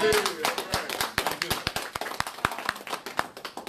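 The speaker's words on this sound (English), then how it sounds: "he deserves a round of applause" Scattered individual hand claps from a small audience at a speakers academy graduation, sharp distinct slaps at an uneven rhythm with a voice audible at the very start.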